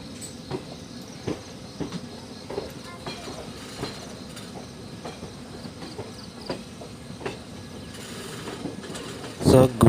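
A train traveling from Hapeghat to Silchar, its wheels clacking rhythmically over rail joints beneath a low rolling rumble, with a faint voice in the background.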